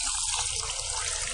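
Water pours steadily in a continuous splashing stream onto sugar for syrup, close and moderately loud, with no talking.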